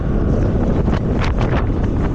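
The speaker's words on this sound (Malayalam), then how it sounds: "കാറ്റാ വീശുന്നത്" Heavy wind on a hilltop rushes steadily across the microphone, a loud, constant roar with gusty surges and no voices.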